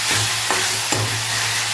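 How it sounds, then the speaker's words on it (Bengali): Jute leaves frying in a pan with a steady sizzle, two soft scrapes of stirring breaking through the hiss, close and continuous. "ভালো করে ভেজে নেবো।"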